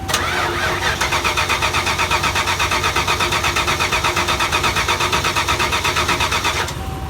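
A 1994 Ford Mustang GT SN95 with a swapped Coyote engine cranks after storage, the starter's rapid, steady rhythmic churning running loud for several seconds before it cuts off.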